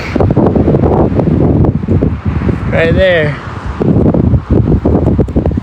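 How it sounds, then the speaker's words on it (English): Steady wind buffets the microphone with a constant low rumble while a person speaks briefly over it, up in the mountains of Utah. "It's gonna be windy!"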